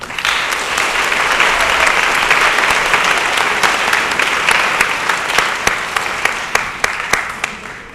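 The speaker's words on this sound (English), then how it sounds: "let's give a big round of applause for Mr." Audience applause for a college dean at a Constitution Day event, a full burst of many hands clapping that thins into scattered, distinct claps toward the end.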